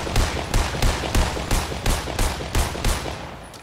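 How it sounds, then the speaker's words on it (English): Gunshots fired in Fortnite at a care package, a steady run of about ten loud, close shots at a regular pace with no talk over them. "I'm gonna shoot at a care package right outside"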